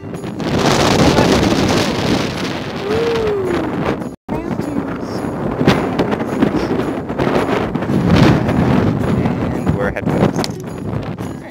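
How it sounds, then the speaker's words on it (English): Strong wind at Whitewater Preserve buffets the microphone in a loud, continuous roar with gusty swells and a brief dropout partway through. "Alright, it's too windy."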